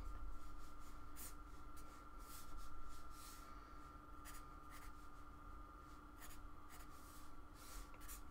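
Real drawing tools scratching and rubbing across paper while sketching little butterflies, leaves and grass, a steady close-up scribbling texture with short repeated strokes over a faint constant hum.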